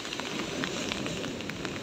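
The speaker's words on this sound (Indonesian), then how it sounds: "Seperti ini ombaknya ya, lagi bergulung-gulung dan masih hujan terus." Heavy rain and big rolling waves on Tambakrejo beach on the south coast of East Java make a steady, dense roar and hiss with no pauses, loud and close, with no voices.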